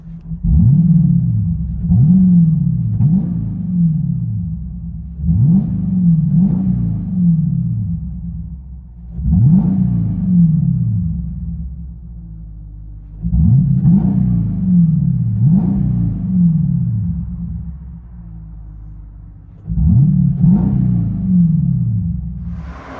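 From inside the cabin of a 2021 Dodge Durango R/T, the 5.7L HEMI V8 with bottle resonators rumbles through repeated throttle blips, about eight in quick pairs and singles, each swelling and dropping back to a steady low idle.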